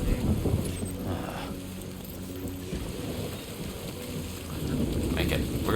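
Rain pours steadily in the video game Death Stranding 2, with low rumbling thunder rolling beneath the constant hiss of falling water, a dense, continuous storm wash from start to finish.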